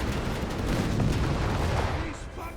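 Big guns of an Archer tank destroyer firing in the video game Company of Heroes 3 produce a dense, rumbling barrage of booms that fills the short stretch, with a voice talking over it.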